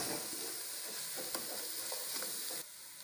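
Red chili paste masala for Ambur chicken biryani being sautéed in a pan, a continuous loud frying sizzle with soft stirring scrapes, alone and close.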